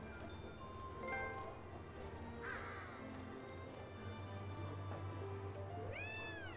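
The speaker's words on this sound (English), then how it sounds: "Here, kitty kitty." A cat meows in the video game Gravity Rush Remaster: faint, short mewing calls with a clearer rising-falling meow at the end, over a low ambient game background.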